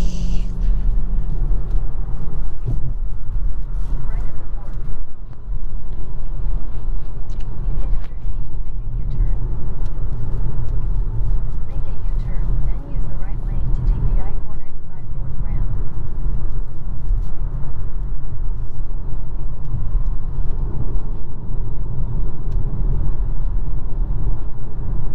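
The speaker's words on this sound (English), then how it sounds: "You can hear the road noise and the tire noise." Steady road and tire roar inside a 2022 Volvo C40 Recharge electric car driving at speed on all-season tires, a continuous low rumble filling the cabin throughout with no engine note on top.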